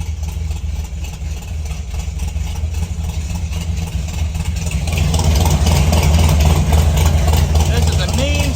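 A 1968 Ford F250 with a built-up 390 V8 runs at a low, rumbling idle with slight throttle held, close by, growing louder and rougher partway through.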